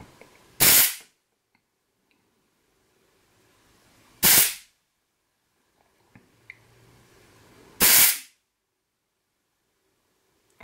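A Huma-Air regulator tester releasing air to simulate a rifle shot, three sharp, loud hissing bursts spaced a few seconds apart with near-silence and small clicks between them.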